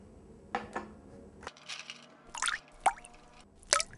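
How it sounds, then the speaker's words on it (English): Ice cubes are dropped one at a time into a beaker of water, giving a few faint, sharp clinks and small splashes spread over several seconds against quiet background hiss. "we can measure volume by placing these ice cubes in this beaker of water."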